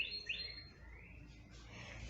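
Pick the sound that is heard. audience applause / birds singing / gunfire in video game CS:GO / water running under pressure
birds singing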